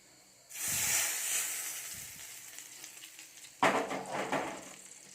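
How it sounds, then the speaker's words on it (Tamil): Mustard seeds hit hot oil for tempering a curry leaf chutney. A sharp sizzling hiss bursts in and fades, then a second louder burst of crackling splutter follows, close up with no voices. "எண்ணெய் நல்லா காஞ்சதும் கடுகு சேர்த்துக்கலாம். கடுகு பொரிஞ்சிடுச்சு."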